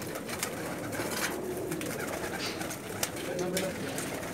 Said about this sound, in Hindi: ये जो है इनका सबसे बड़ा बहुत पुराना कबूतर है